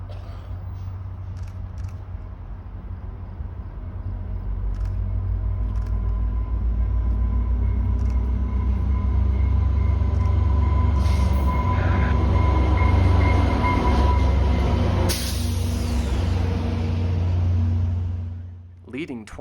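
A heavy passenger train led by an F40PH-2 locomotive rumbles into a Montreal station with a deep steady engine drone, squealing wheels and clanks building as it rolls close, then the noise eases off.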